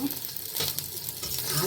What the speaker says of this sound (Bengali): নিয়ে এবার কড়াই রসুন দিলাম